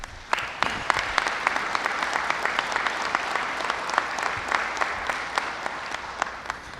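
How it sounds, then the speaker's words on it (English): An audience at a veterans appreciation event claps steadily for several seconds, a continuous wash of many hands applauding without cheering. "let's give a big round of applause to these men and women"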